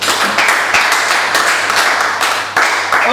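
A church congregation clapping steadily in praise of the Lord, a dense continuous patter of many hands, loud and close with no voices standing out.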